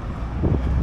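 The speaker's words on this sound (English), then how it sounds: "Extra windy, and I don't know if y'all can hear me at all" Wind gusts batter the microphone outdoors on a trip in Kazakhstan, making a steady low rumble with buffeting that swells slightly toward the end, and no voices are heard.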